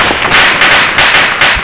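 Gunfire in the military shooter ArmA II, a rapid series of sharp loud cracks, about six shots spaced unevenly over under two seconds, close and alone.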